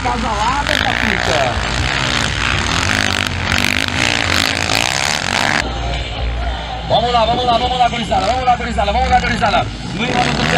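Racing motorcycles at a VX5 national event in Novo Horizonte do Sul run on the track, their engines droning and revving continuously under loud, excited commentary from an announcer.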